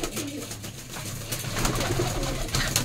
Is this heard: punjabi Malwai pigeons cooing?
yes